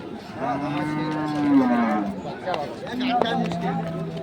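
A dairy cow with her calf at the Ambari cattle market in Dinajpur gives two long, loud, nearby moos over the chatter of a market crowd, and people talk close by.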